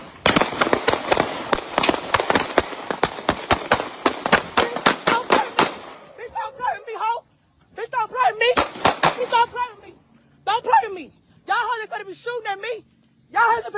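Rapid string of sharp gunshot cracks in a shootout, a dense volley of loud close bangs for several seconds, then someone shouting angrily over a few scattered later shots.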